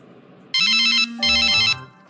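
A telephone rings out as a call is placed: two loud electronic ring bursts separated by a short gap, over a low, steady tone.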